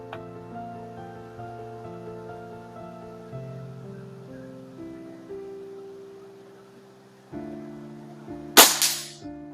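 A single sharp crack of a Hatsan 95 .22 caliber break-barrel spring air rifle firing a pellet, loud and close, standing out late against a quiet background hum.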